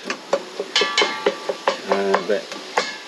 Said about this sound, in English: The idea is to get the onions softened and brown as much as you can.